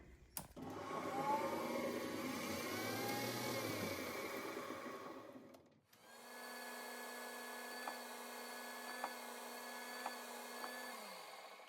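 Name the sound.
lathe drilling a 5/16 hole for muffler pipe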